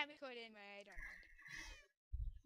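A cat meows in a multiplayer video game, a drawn-out harmonic cry at close range, followed by a shorter rising call and a brief low thump near the end, with people's voices around it.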